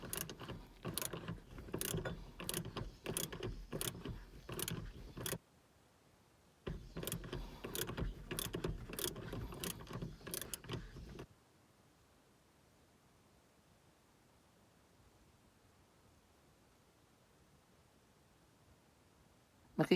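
A ratchet wrench clicks rapidly in two bursts while tightening the bolt on a seat belt lifter for a VinFast VF3, each burst a fast string of close, sharp clicks, followed by near silence.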